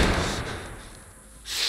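A door slams shut as it is barricaded in The Last of Us video game, a loud thud right at the start that decays into rumble, with another burst of noise near the end.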